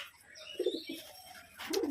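Soft coos from domestic pigeons come in two short bursts, close by and fairly quiet, over faint background hiss with no talking.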